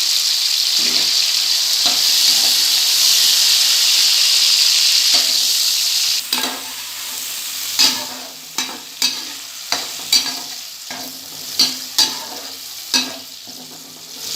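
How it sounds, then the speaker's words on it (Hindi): Onions and tomatoes frying in a pan for a lauki dish, a loud hissing sizzle at first, then quieter frying broken by repeated scraping stirs and spoon knocks at a steady pace. "ये हमारे प्याज फ्राई हो रहे हैं"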